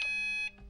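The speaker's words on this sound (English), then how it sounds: "we've already got the buzzer, so that's good." Buzzer of an Emtron display fitted in a 2010 Subaru WRX, a single short electronic beep with a strong steady tone lasting about half a second before cutting off, close and alone.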